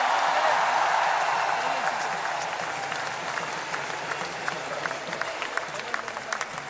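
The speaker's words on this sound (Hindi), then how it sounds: "एक बार जोरदार तालियों से इनका स्वागत करिए।" Loud, sustained applause from a large crowd welcoming an Olympic silver medalist at a state honouring ceremony, dense clapping throughout with crowd murmur underneath and slightly thinning toward the end.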